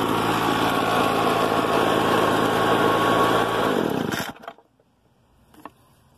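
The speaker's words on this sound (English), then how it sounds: "that's why I have a leaf blower right here." Leaf blower engine running loud and steady with a high whining drone, then cutting off abruptly, leaving near silence with a faint knock afterward.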